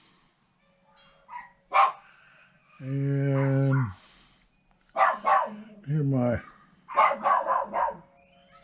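Several dogs bark outside in short, loud bursts scattered through the stretch, with someone talking in between.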